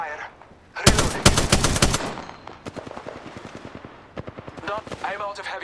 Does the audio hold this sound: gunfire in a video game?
yes